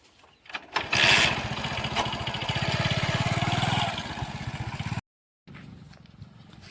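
A motorcycle engine runs close by with a steady, throaty idle that swells after a start-up burst, then cuts off abruptly and resumes about half a second later.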